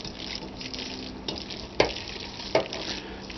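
Vegetables fry in hot roux for gumbo with a steady close sizzle, broken by a few sharp stirring scrapes and clacks.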